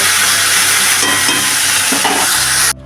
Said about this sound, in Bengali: এখন অল্প অল্প করে আমি মাছগুলো একবারে ভেজে নেব